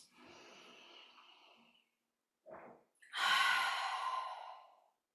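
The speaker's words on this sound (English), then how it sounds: "And the exhale all the way out through the mouth, really long and slow" A long, slow breath out through the mouth during a grounding yoga practice, airy and close, preceded by a softer exhale and a brief inhale, then a louder, sustained sighing exhale lasting about two seconds.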